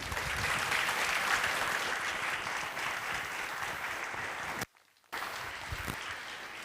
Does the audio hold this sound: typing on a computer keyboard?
no